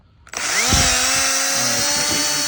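A drill spins up abruptly and runs with a steady high whine, driving an 800-grit sanding pad across a car headlight during a 3M restoration, loud and close.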